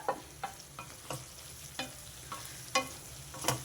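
Ginger garlic paste frying with onions sizzles steadily in a pan while a spoon stirs through it, scraping in short regular strokes about every half second, close and quiet with no talk.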